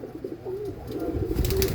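A red 'chitri' pigeon coos close by, a steady run of soft, low, throaty coos repeating alone with no talk.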